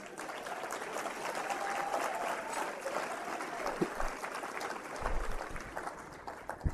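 Moderate, steady clapping from a gala audience honoring a father asked to stand, with a faint murmur of voices mixed in and a few louder thumps near the end.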